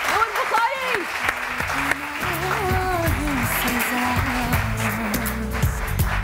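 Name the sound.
audience applause in TV studio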